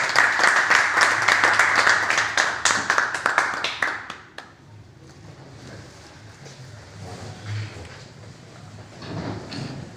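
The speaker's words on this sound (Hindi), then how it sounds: "भाई, तालियों के साथ।" An audience welcomes a team at an S.T.A. event with loud, dense clapping that breaks into scattered claps and fades out after about four seconds, followed by low room noise.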